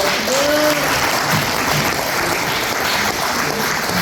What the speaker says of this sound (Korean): 우리 노영돈 교수님께 뜨거운 박수 한번 부탁드리겠습니다